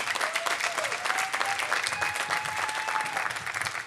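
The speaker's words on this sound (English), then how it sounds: "I would ask the platform party for a round of applause for our students to show that courage." Steady, dense applause fills a student convocation hall, a sustained wash of clapping from a large audience with a faint whistle or cheer riding over it, close and even throughout.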